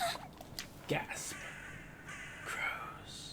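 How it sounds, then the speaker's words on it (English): Many crows cawing outdoors, several scattered harsh calls at moderate distance heard over a constant background hiss. "There's so many crows. What is this? What are these crows doing here?"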